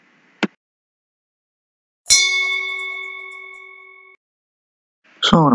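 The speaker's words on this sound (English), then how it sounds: "So I'm going to put the bells, the click sound, and the ring sound first." A bell ding made for a subscribe button: a short click, then one bright clear bell strike that rings and decays for about two seconds, followed by another sharp tone burst at the end.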